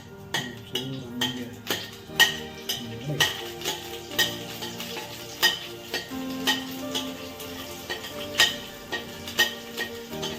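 Dhaba-style palak gravy masala being fried and stirred in a pan: close, repeated scrapes and metallic clinks of a spoon against the pan at an uneven rhythm, over a faint sizzle.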